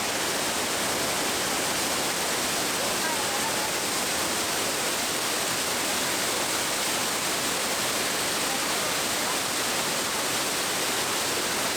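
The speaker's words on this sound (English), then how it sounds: "The waterfall, we're yet to go get a closer look at it, but from a distance we can see and feel its power already." Waterfall in Kamphaeng Phet, Thailand, a dense continuous rushing roar of falling water heard from a distance, steady and unbroken with no voices.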